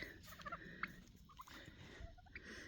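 Turkeys gobble in short bursts at a distance, faint rattling calls over a low outdoor background.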